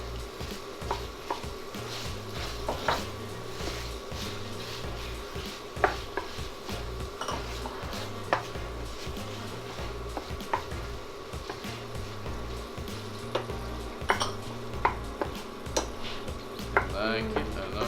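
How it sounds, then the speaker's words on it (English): Peppers and jalapenos stirred into melting cream cheese in a pot for bison chorizo chili, a steady run of spoon scrapes and clanks against the pot over a constant background hum, with a voice occasionally in the background. "we're going to add the peppers and the jalapenos"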